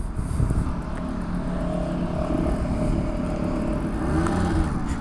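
An unrestored original Yamaha DT LC 50 motorcycle, sold new in 1998, runs with a steady buzzing two-stroke engine note that holds fairly even and close throughout, with a slight rise near the end.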